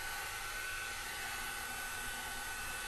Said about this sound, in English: this is a Clos hair dryer